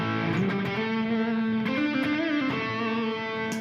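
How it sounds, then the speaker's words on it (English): A Maestro Invader Distortion guitar pedal turned on, giving a thick, buzzy, heavily saturated guitar tone with sustained notes and slow pitch bends, loud and continuous with no talk. "It is the Maestro Invader Distortion, and I just want to feature it for half a second here."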